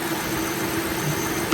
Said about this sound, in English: Super clean idle.